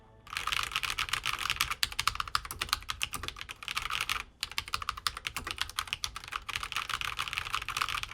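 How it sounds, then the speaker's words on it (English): Typing on a gloss red Aukey KM-G18 mechanical keyboard with red switches: rapid, close, crisp key clacks in bursts, broken by two brief pauses, with no talk. "Let's get a sound test and feel test."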